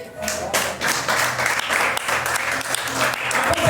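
Church congregation applauding together during a service, a dense, steady wash of many hands clapping at close range for the whole stretch, with faint voices mixed in.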